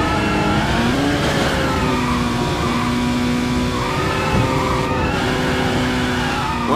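Racing car engines from the Initial D arcade game, a steady high engine whine with shifting pitch sweeps like cars accelerating and downshifting, loud and continuous with layered game sound.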